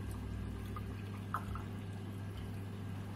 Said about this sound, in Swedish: Jag sköljer elektroden.